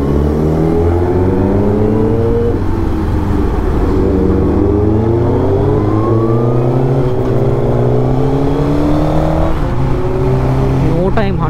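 A Suzuki GSX-R 1000 fitted with a Yoshimura titanium exhaust is ridden hard, its engine note repeatedly climbing and dropping through gear changes over constant loud wind rush.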